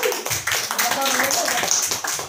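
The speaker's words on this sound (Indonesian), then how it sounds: "tepuk tangan untuk Bu Nita." An audience at a school teacher training session applauds steadily, a dense patter of many hands clapping, while a voice talks over it throughout.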